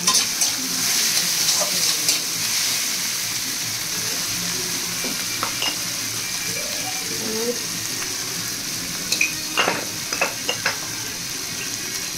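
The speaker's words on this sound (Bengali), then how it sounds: "মশলাটাকে ভালো করে কষে নেবো" Spice paste of ginger, garlic, green chili and cumin fries in hot oil with a steady close sizzle, while a few scraping stirs and light clinks of a utensil break through now and then.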